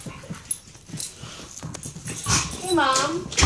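A pet dog growls low and whimpers while guarding its dog bed from another dog indoors, short grumbling bursts mixed with people talking nearby and a rising whine near the end.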